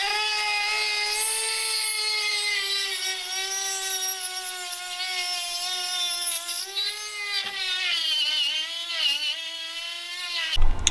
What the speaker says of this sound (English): Now I can take this Dremel, and what I'm gonna do is cut a slit in this metal race just on one side.